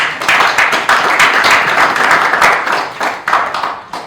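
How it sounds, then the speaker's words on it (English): Audience applause at an education workshop at Kyambogo college, a dense wash of hand clapping that holds steady and fairly loud for several seconds. "May we join our hands in an applause."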